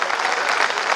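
Audience applause at a Hindi kavi sammelan poetry recital in Rajnandgaon, a dense, steady burst of clapping from a large crowd, close and loud for about a second with no speech over it.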